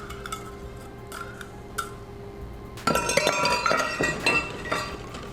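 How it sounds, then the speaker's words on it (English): Honey, sugar and salt are whisked in a bowl: after a few faint clinks, a whisk starts rattling and clinking against the bowl in quick, close, uneven strokes. "And we're just going to whisk this together."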